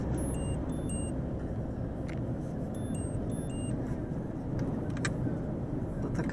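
A car cruising steadily on a road in Germany, holding about 85 on cruise control in an 80 zone, with a constant broadband road and tyre rumble close up and a few faint electronic beeps over it, no voices.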